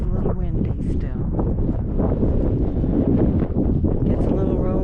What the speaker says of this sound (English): It is a little windy still.